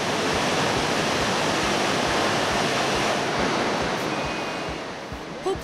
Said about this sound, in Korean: 거짓말처럼 눈앞에 펼쳐진 폭포